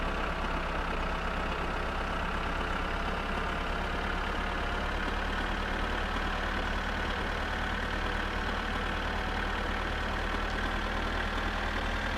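A tractor engine in My Summer Car drones steadily while towing a van, a loud, constant, unbroken rumble with no talking.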